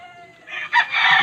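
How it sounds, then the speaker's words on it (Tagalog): An African bird calls once up close, a loud harsh crowing cry that rises and breaks into a second burst, heard outdoors. "Ang ibon na yan."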